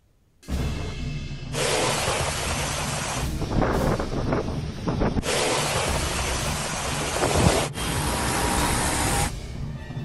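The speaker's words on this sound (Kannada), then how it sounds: "ಭೀಕರ ಬಿರುಗಾಳಿ, ರಣ ಮಳೆ, ಸಮುದ್ರದಲ್ಲಿ ಅಲೆಗಳ ಆರ್ಭಟ" Stormy wind and rain from Cyclone Fengal roar in loud, broad rushes that start and stop abruptly, a harsh continuous noise filling the whole clip.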